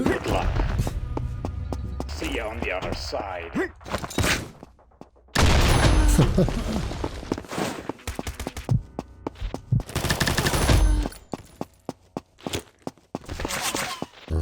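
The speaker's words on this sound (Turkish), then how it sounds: "Tabii sesler biraz komik olmuş yani bu sekme efekti." Bullet ricochets and rapid gunfire in the shooter game Combat Master, playing in a team match on a warehouse map. Loud bursts of shots and whining ricochets come in clusters, with quieter gaps and footsteps between them.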